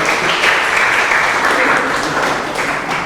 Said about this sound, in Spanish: Demos un aplauso, ¿no?